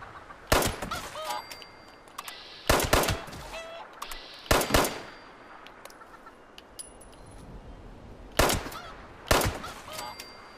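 Loud bursts of gunfire crack out in Fallout 76 as a chicken is shot, five sharp volleys spaced a couple of seconds apart, with faint fowl squawks and ambient noise in between.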